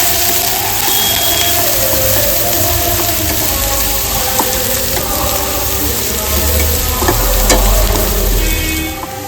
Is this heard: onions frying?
yes